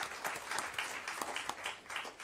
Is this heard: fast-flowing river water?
no